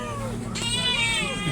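A pet cat meows during a home breakfast, one clear drawn-out meow rising over a low hum, with a voice murmuring in the background.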